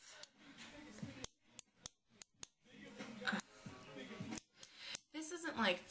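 Scissors snip off the extra length of cord on a handmade feather hair tie, several sharp quiet clicks spaced out between stretches of close, soft talking.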